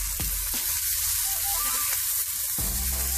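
A porterhouse steak sizzles loudly in a hot pan just after being flipped, a steady close frying hiss broken by a few sharp pops.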